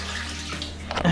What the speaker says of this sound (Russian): Сливаем воду.